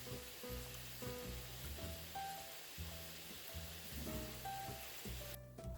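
Low-carb clam chowder with almond milk heating in a pot, a faint steady sizzle and simmer with soft bubbling pops beneath a low rhythmic background of music, no talking.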